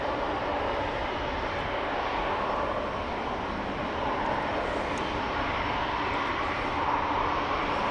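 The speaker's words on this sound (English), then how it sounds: "Time for the Chinese A350" China Airlines Airbus A350-900 jet departing Amsterdam Schiphol, a steady broad roar of jet engines that stays moderately distant and even throughout, with no voices.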